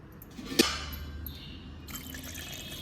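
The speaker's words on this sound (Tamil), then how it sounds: "இப்போ தண்ணி ஊற்றிக்கலாம்" Water is poured into a pressure cooker holding chicken with turmeric, onion and curry leaves, giving a close splash followed by trickling and dripping, fairly quiet with no talk.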